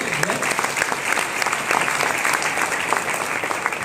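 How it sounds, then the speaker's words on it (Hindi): Loud applause from a large audience at a business lifestyle seminar, a steady dense wash of clapping that holds at full strength for about four seconds. "इनके लिए भी जोरदार ताली होनी चाहिए।"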